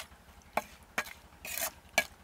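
Chili powder being mixed into a prawn pickle, five or six short scraping stirs in a bowl, close and fairly quiet, with no talk.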